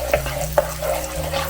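A spatula stirs Korean gochujang chili paste in a hot pan, two sharp scraping strokes over a low sizzle and a steady background hum.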